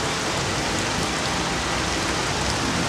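Steady rain falls in the GZDoom video game, a dense, continuous hiss of droplets at an even level with no talk or thunder.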